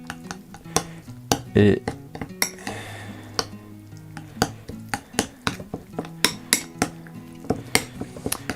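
A spoon scrapes and clinks steadily against a bowl as a mixture is stirred at length, with repeated rhythmic knocks close by and brief bits of speech.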